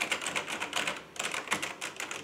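Rapid, hard clacking from typing fast and forcefully on a Logitech G910 Orion Spark mechanical gaming keyboard, a dense run of keystrokes close to the mic, with no talking.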